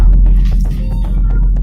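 A repetitive meow song plays with cat meowing sounds, several short tonal mews in a row over a heavy low droning background, fairly loud and without talk.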